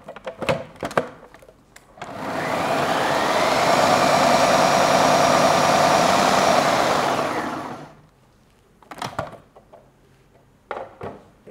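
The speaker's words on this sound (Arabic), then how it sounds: "حبتدي أطحنه لغاية ما يصير عندي باودر" An electric grinder whirs steadily for about six seconds as almonds are ground into a fine powder, the motor loud and close, with clicks and knocks before and after.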